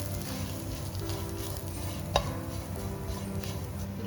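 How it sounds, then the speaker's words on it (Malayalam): Coriander powder, chili powder and a little garam masala sautéing in a pan for duck roast, a continuous close sizzle with stirring scrapes and one sharp utensil knock near the middle, no talking. "മല്ലിപ്പൊടി, അല്പം ഗരം മസാല ഇത്രയും ചേർത്ത് നന്നായിട്ടൊന്ന് ആ പച്ചമണം മാറുന്നിടം വരെ വഴറ്റിയെടുക്കാം"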